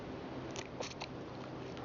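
Crunchy biting and chewing on a woody wild thistle stem outdoors, several close crisp bites clustered in the middle over a steady background hiss.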